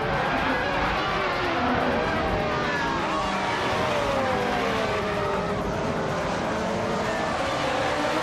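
Race cars roar past at speed in a dense, unbroken engine wash. Several whining tones sweep through it as cars pass close by, and the noise stays loud and continuous the whole time.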